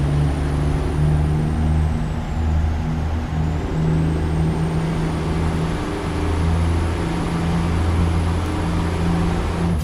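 Slav Jerry 60 series diesel truck engine mod in American Truck Simulator, a steady low droning rumble with a faint high whine, continuous and close, with no talk.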